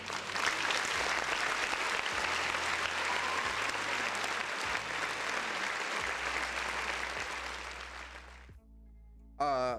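A round of applause fills most of the stretch with dense, even clapping that fades out near the end.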